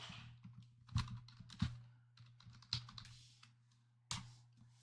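Fingers tap a computer keyboard in short uneven bursts, a few sharper key strikes standing out among lighter clicks, close and alone with no voices.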